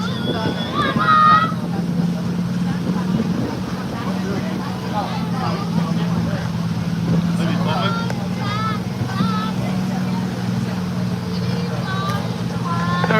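A steady low cruise boat engine hum and vibration drone runs throughout, with birds chirping faintly and voices talking now and then on top.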